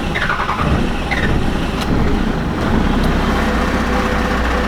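A 12-valve Cummins diesel truck engine cold-starting, a loud, rough, continuous rumble with squealing and clattering tones layered over the steady running, close by.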